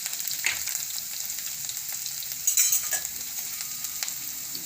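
Chilli, ginger and asafoetida fry in hot oil with a steady, bright sizzle, punctuated by a few brief clinks and a louder crackling flare partway through.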